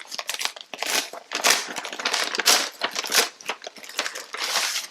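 A craft subscription box package is opened by hand, giving close, crinkly rustles and papery tearing in quick irregular bursts, with no talking.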